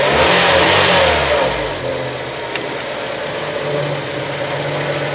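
A K11 Nissan Micra engine with an idle speed fault, heard close up as it revs briefly and then settles into a steady, loud running idle.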